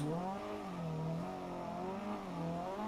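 A car engine in the video game Assetto Corsa revs up and down in smooth, wavering pitches, loud and continuous with no talking.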